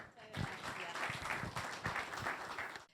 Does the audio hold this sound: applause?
yes